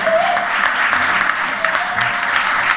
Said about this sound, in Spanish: yo les voy a pedir que le den un pequeño aplauso a los nuevos